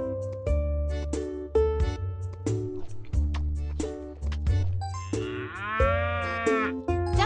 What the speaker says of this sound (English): Meet Molly the cow